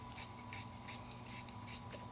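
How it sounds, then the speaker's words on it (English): Quick bursts of a spray bottle spraying alcohol hiss in a rapid series of short pumps, close and fairly quiet over a faint hum. "I'll take this, I'll just give it a spray"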